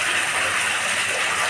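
Water gushes steadily from a newly drilled farm borewell, a loud, continuous broadband rush with no pauses, heard close and on its own.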